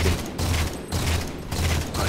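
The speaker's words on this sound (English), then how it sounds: "No, the cannon. Concussion cannon." Concussion cannon in Halo 4 fires three heavy, booming blasts in quick rhythm, each a loud thudding burst separated by brief gaps, close and dominant.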